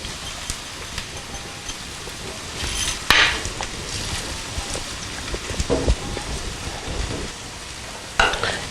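Onions frying in a pan for homemade samosa filling, a steady close sizzle with occasional stirring scrapes and a couple of sharper clatters, no talking.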